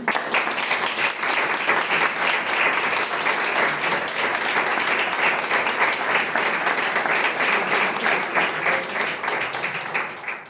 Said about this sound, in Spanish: un aplauso muy grande a los disertantes